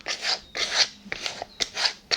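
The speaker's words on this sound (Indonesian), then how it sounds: "Saya menggunakan amplas yang kasar seperti ini." Coarse sandpaper rasps against a rubber sandal sole in a series of quick, close strokes, about six gritty scrapes separated by short pauses, with no speech.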